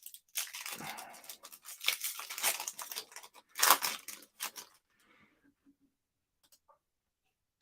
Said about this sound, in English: Let's open you up some Pokemon cards, mate.